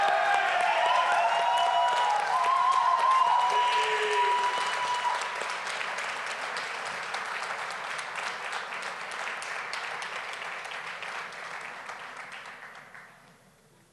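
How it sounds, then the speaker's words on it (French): An audience at a Quebec political party speech for Option nationale gives sustained applause with some cheering, loud at first and then gradually fading out over about fourteen seconds. "Oui, je pense qu'on peut s'applaudir."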